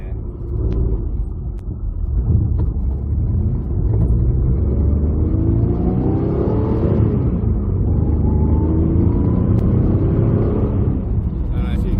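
A Lancia Stratos replica built by Lister Bell driving on the road, its engine droning steadily with rising rev sweeps from inside the car, and a voice talking over the engine.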